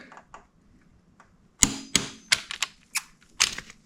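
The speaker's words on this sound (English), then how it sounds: "that'll make it much easier to torque the front sprocket bolts" Torque wrench working on the front sprocket bolts of a 2007 Honda CBR600RR, a quiet start followed by a run of sharp metallic clicks, close and irregularly spaced, no talk.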